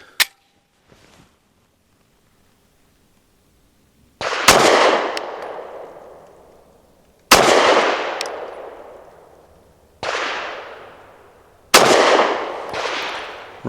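Four loud, sharp pistol shots from a SAR9 SC Gen 3 firing Hornady Critical Duty 135 grain rounds, spaced a few seconds apart, each with a long ringing outdoor decay, after a faint click or two at the start.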